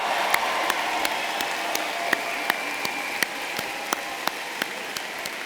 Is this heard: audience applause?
yes